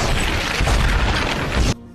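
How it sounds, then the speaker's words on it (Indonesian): A loud, sustained bomb explosion rumble in the film Valley of the Wolves roars for under two seconds, then cuts off abruptly into quiet. "bom pun meledak"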